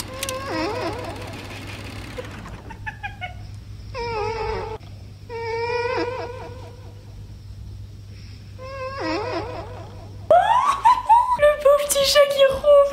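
Repeated cat meows and chirping vocal sounds over a low steady hum, followed by a louder, busier burst of squeaky cries near the end.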